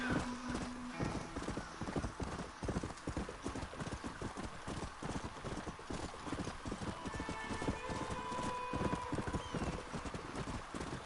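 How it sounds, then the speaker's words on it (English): Horse in the video game Red Dead Redemption, rapid clip-clopping hooves pounding steadily for the whole stretch, with a whinny briefly rising over the galloping rhythm, fairly quiet in the mix. "Um cavalo idiota."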